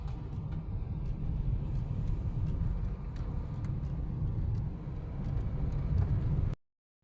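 A vehicle drives fast on a road, with a steady low engine and road rumble that holds evenly from inside the cab throughout and cuts off abruptly at the end.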